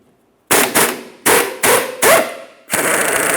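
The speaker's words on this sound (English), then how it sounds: "Now we'll remove the bolt by driving it out from the rear towards the front." A strut bolt is hammered out of a 2003-2007 Honda Accord front control arm: five loud, sharp metallic blows at close range, evenly spaced, followed by a burst of ringing clatter.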